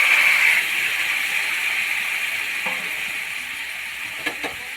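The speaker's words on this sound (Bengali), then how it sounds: "এবার আগের থেকে যে সেদ্ধ করে রাখা সবজিগুলো সেগুলো এর মধ্যে তুলে দেব।" Boiled vegetables go into a pan of frying thalkuni leaves, giving a loud, even sizzle and hiss that eases slightly, with a few soft stirring knocks near the end.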